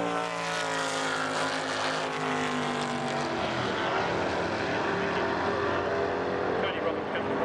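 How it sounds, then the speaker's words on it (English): Race cars, including a Volvo, roar past the finish line under the checkered flag, loud engine drones rising and falling in pitch as they pass, with a commentator speaking over them. "Checkered flag, and Chris Hyde comes across the line and he will win"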